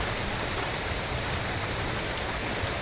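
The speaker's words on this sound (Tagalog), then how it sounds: "ang lakas ng ulan. Inulan na naman kami dito." Heavy rain pours down at a milkfish fishing spot in Metro Manila, a dense, constant hiss of rainfall drumming on surfaces, loud and close with no pauses.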